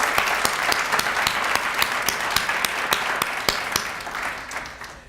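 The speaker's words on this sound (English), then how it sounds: "let's give them a huge round of applause for being with us today" A large audience at an awards ceremony gives a sustained round of applause, dense clapping steady throughout and slowly fading toward the end, with no voices over it.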